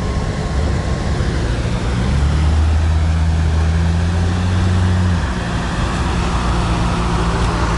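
A Ferrari F40 engine rumbles low and steady nearby while parking, its drone rising briefly in pitch then settling, with street noise around it.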